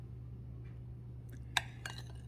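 A spoon clinks against a glass of whipped dalgona coffee while stirring: after a quiet stretch, one sharp chime comes, then a short cluster of lighter taps over a low background hum.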